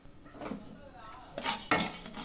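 Mustard seeds splutter in hot oil in a pan after lump asafoetida has been fried. Quiet crackles build to sharp, close pops that turn dense and irregular in the second half, with no talking.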